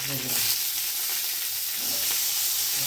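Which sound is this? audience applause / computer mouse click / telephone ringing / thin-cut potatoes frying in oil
thin-cut potatoes frying in oil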